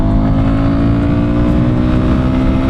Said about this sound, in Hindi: तो करते हैं बाइक को लॉन्च, लेट्स गो।